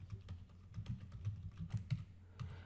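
Quiet, close keystrokes on a computer keyboard, a quick irregular run of light taps over a few seconds.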